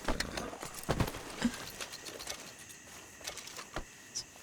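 Horse hooves clip-clop on the ground in Red Dead Redemption 2, a few scattered, uneven steps at moderate distance amid quiet outdoor ambience with faint birds.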